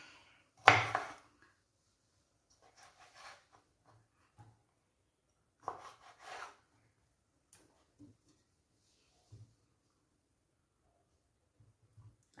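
A knife cuts lemons on a board for a lemon and dates pickle, giving a few sparse, close taps and thuds separated by long quiet gaps.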